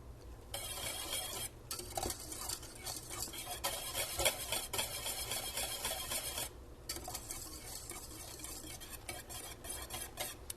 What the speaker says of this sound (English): And with our whisk, we'll stir it.